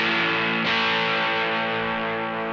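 Guitar played through a True North Pedals Sugar Shack overdrive pedal into a Tweed Junior amp with the drive turned up, giving a loud, sustained, saturated chord ringing out continuously with no talking.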